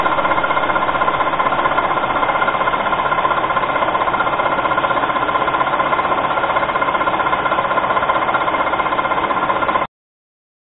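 A homemade knife-making belt grinder sands a roller with 100-grit abrasive, producing a loud, steady motor drone and grinding hum that runs evenly for about ten seconds before cutting off abruptly.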